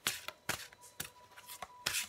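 Tarot cards being shuffled by hand, heard as a handful of quick, crisp papery bursts spaced irregularly, close up and fairly quiet.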